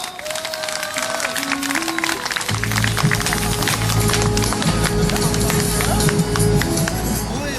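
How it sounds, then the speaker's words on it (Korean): Applause from the crowd at a Gyeonggi-do charter bus operators' rally, a dense steady clatter of clapping that swells after a couple of seconds and carries on under sustained music tones and an amplified voice. "뜨거운 박수로 맞이해 주시기 바랍니다"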